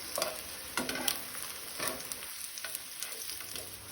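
Mackerel liver cutlets (bangda liver dangar) fry in a pan over a low-medium flame, giving a quiet, steady sizzle with occasional scrapes of a utensil turning them.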